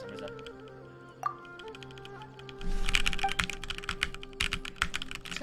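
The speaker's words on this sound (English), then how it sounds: "I did some keyboard ASMR for some reason." Keys on a computer keyboard click in a rapid, close, steady patter that grows busier partway through, alone over a faint background hum.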